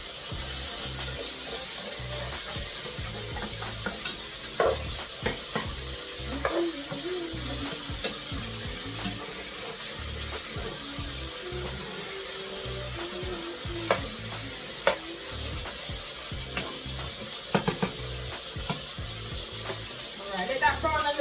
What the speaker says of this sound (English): Let that brown a little bit, and then you can add the other water